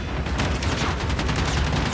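Gunfire in a Call of Duty video game, a dense continuous rattle of rapid shots that stays loud and steady throughout.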